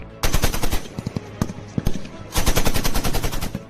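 Bursts of rapid automatic gunfire, two long dense volleys separated by scattered single shots, loud and close, from Indian and American troops firing near the Line of Actual Control.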